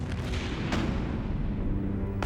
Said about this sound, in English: the Redoutable is raked by devastating cannon fire from the Victory